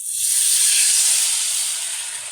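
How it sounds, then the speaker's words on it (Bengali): Water poured onto hot fried spices in a pan for a duck egg curry bursts into a loud, steady steam hiss that holds close and strong for a couple of seconds, then eases slightly, with no voices. "জল দিয়ে দিচ্ছি,"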